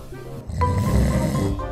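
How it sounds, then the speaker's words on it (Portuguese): A person snoring, one loud, rough, drawn-out breath close to the microphone, following a brief quieter stretch. "Roncar pode ser um sintoma de apneia obstrutiva do sono"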